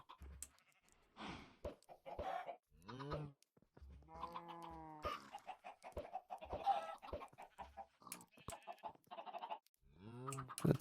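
Minecraft chickens clucking in short, scattered bursts of varying pitch, mixed with other farm animal calls like bleating, fairly close and clear with no talk over them.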